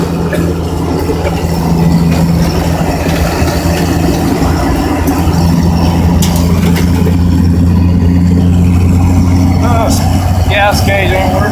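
A 1964 Ford Mustang engine drones steadily while driving, loud and continuous, with faint knocks and rattles and a short squeak near the end.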